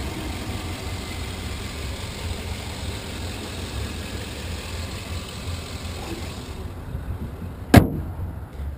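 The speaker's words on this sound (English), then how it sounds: "Go ahead and start this up so you can hear it run." A 2007 Chevrolet Tahoe LTZ with a Vortec V8 engine idles steadily as a low, even rumble, close by. Near the end a sharp thud follows, like a door shutting, and then the sound drops away.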